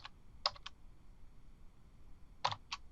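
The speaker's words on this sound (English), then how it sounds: "Now there's the quote saying I'm about to type in some text." A few quiet keystrokes on a computer keyboard, two short clusters of clicks about two seconds apart over a faint room hush.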